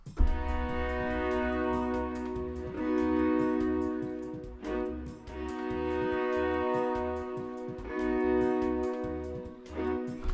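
A sampled string section plays back at half tempo, with long sustained chords that swell and pause in slow phrases over a steady low bass pulse, with no voices.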